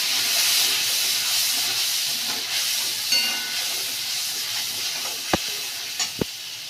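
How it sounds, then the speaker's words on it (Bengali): Spice paste with turmeric and a little water frying in a pan for a fish curry, giving a steady, close hissing sizzle throughout with a few brief clinks near the end. "সামান্য জল দিয়ে ভালো করে মশলাটাকে কষিয়ে নেব।"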